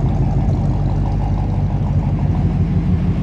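A 1955 Ford Y-block V8 engine idles steadily with a low, rumbling exhaust burble, continuous and fairly loud with no talking.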